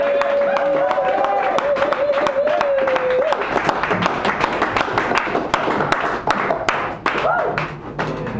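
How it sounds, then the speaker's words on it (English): An open mic crowd at Sacred Grounds Cafe in San Francisco claps in a dense, steady burst of applause that follows a brief tonal hum, the clapping close and continuous, with scattered voices mixed in. "let's hear a big round of applause for Johnny Hernandez"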